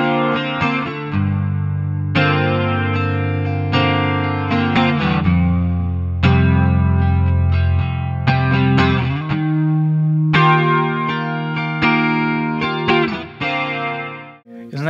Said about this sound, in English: it gives a shimmering sound to your clean, and it really makes things sound sparkly